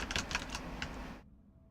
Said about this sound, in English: It shouldn't be doing typing sounds.